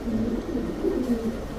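A black male racer pigeon coos in a low, steady burble, several soft rolling calls close by with no talk over them.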